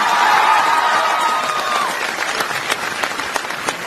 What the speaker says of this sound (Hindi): अब बच्चे चिल्ला रहे और तालियां मार रहे